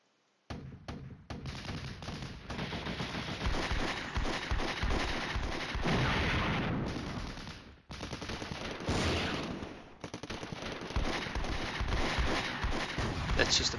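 Mortar fire in the video game Flashpoint Campaigns: Red Storm, a dense, continuous roar of explosions and booming shots that keeps up almost without pause, loud and close, cutting out briefly once before resuming.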